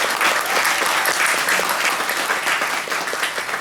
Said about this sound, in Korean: 두 분께 큰 박수 한번 주세요